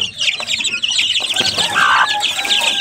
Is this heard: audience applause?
no